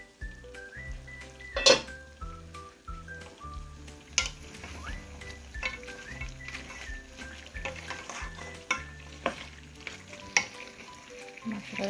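Goat meat stirred in a sizzling pan, a steady frying hiss with several sharp metal clanks and scrapes at irregular intervals, while faint music plays in the background.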